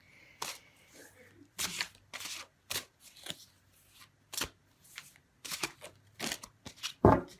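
Tarot cards being shuffled close by in quick, crisp riffling bursts with short pauses between them, ending in a louder snap.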